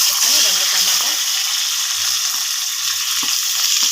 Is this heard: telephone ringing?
no